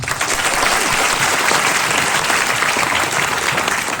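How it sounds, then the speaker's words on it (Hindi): A college audience at NIT Patna claps loudly for a stage act, with dense, steady applause that fills the whole moment without a break. "तालियां तो बनती है।"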